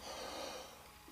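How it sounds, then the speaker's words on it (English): A man's cough or throat-clearing in a workshop, a short rough breathy burst up close, fading into quiet room noise. "Excuse me while I cough up a hairball."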